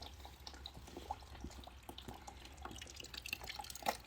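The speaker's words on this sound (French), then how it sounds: "il y en a encore plein qui tombent. Ça c'est de l'ancien liquide de refroidissement." Old coolant drains from an MT-09 motorcycle's cooling circuit with the bleed screw open, a faint, steady patter of small drips and trickling close by in a quiet workspace.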